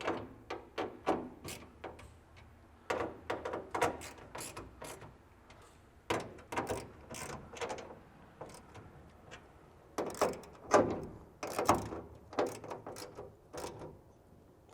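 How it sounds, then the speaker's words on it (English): A 10mm socket ratchets in quick bursts of sharp clicks, tightening bolts on a metal MOLLE panel in a Jeep JT truck bed, close by with short pauses between runs. "Next, 10mm socket to tighten up these four across the top."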